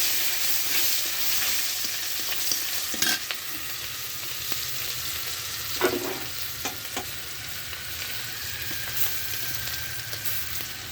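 Two dried red chillies fry in leftover fish-frying oil with added fish fat for a silver carp and pointed gourd dish. A continuous close sizzle carries occasional stirring scrapes and clinks.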